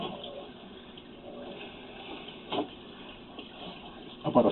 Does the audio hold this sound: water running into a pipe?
yes